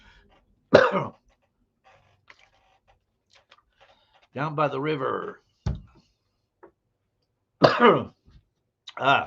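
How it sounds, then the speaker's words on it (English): A few harsh coughs from a lingering cough in separate bursts, close to the mic, with a short spoken phrase between them. "Still got my cough. Can't get rid of that cough."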